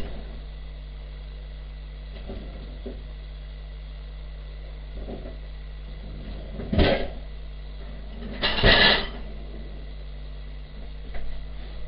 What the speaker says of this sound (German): Wir gucken im Kühlschrank nach.